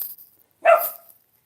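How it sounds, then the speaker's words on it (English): A pet dog lets out a single short, sharp bark indoors, loud and close, after brief quiet. "it's my dog, Cyril."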